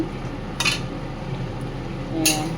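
Bottle gourd and egg curry with potato, cooking in oil in a pan, is stirred. Two brief scraping strokes of a utensil against the pan stand out over a low, steady kitchen background.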